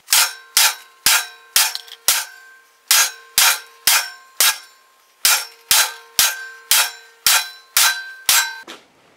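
About fifteen sharp, ringing hammer blows strike a weld joining Hardox AR500 to mild steel with ER70S-6 filler, evenly spaced metallic clangs with short decays, loud and close with no talk.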